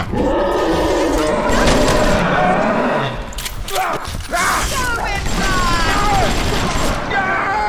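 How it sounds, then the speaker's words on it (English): Machine gun fire in the BioShock video game, dense sustained bursts with crashes and clatter at steady loudness through the stretch, with game sounds mixed in. "This machine gun is doing well, but it's running out of ammo quickly."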